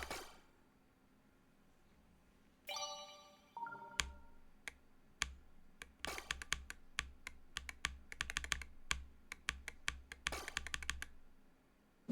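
Key presses on a Wooting 60HE V2 keyboard during a Geometry Dash session, sharp clicks in irregular bursts and quick clustered flurries, close and alone with no talk.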